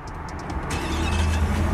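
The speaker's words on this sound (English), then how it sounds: "And now the truck should allow us to start up." A Ford F-150 pickup truck engine cranks and catches, settling into a low, steady idle rumble over a second or so.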